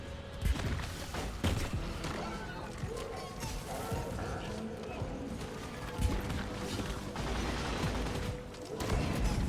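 Explosions from an unstable weapon in Deep Rock Galactic, a dense, chaotic barrage of booms and crackling bursts layered with clattering gunfire and scuffling, loud and continuous, with a heavier burst near the end.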